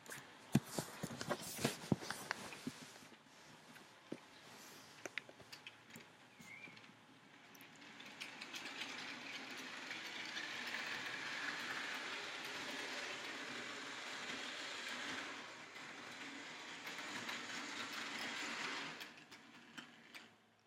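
Model freight locomotive backing up on a layout, a soft steady mechanical whir with rolling rail clicks, faint and close, preceded by a few sharp handling clacks.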